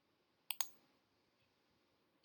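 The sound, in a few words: mouse click on the start button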